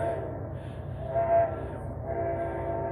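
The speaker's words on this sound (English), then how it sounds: "Oh, here comes the train." A train passes close to a house under renovation, its low rumble and rhythmic wheel clatter steady throughout, with a brief horn-like tone rising in the middle.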